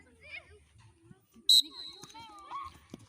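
A teacher blows a short, sharp whistle to start a children's chasing game at a physical education lesson. It gives one bright blast in the middle, with voices calling before and after.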